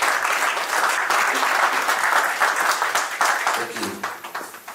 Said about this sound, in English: Please clap for Charles, please.